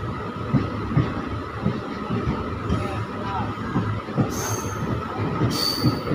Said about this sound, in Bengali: আমাদের ট্রেন এসে পৌঁছালো তার প্রথম হল্ট ওল্ড মালদা জংশনে।